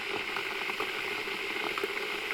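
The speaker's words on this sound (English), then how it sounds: "So what I did is just took a sound of the kettle boiling." Kettle boiling, used as a bed for Sith lightning sound design: a soft, continuous bubbling hiss with faint popping, steady and quiet throughout.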